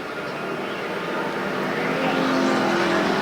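Factory stock race cars roar around the dirt oval at Perris Auto Speedway, a dense engine drone that swells louder as the field sweeps into turn one.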